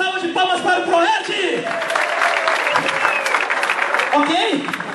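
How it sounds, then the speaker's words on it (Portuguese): A large crowd at a PROERD seminar in Bombinhas applauds with loud, dense clapping, mixed with cheers, whoops and voices, sustained throughout without a break. "uma salva de palmas para o Proerd"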